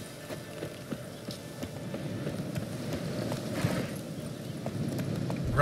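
Roach, the horse from The Witcher 3, gallops steadily with a continuous rhythmic clip-clop of hooves over a low rumbling background, close and moderately loud throughout.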